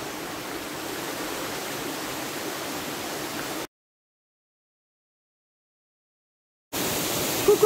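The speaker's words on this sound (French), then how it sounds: "La cascade est derrière nous." Continuous rushing roar of a waterfall in the Thur valley, Alsace, broken by a few seconds of silence before returning, with a short voice at the very end.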